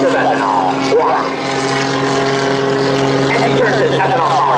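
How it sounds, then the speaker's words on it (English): An ethanol-powered MXS aerobatic plane drones loudly and steadily overhead during an air show, its propeller engine roar holding a constant pitch under crowd and announcer noise. "Greg Poe is flying the world's first ethanol-powered MXS."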